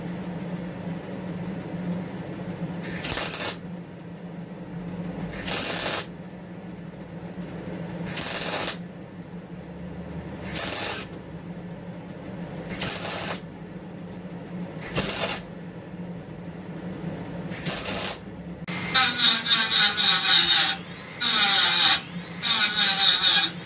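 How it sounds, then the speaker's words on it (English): A MIG welder tacks a nut back in place on a Jaguar Mk 2 340. About eight separate bursts of harsh crackling come at steady intervals, then a quicker run of bursts at the end, over a low hum. "somehow carefully I've got to try and MIG that back in without obviously welding the bolt to the nut"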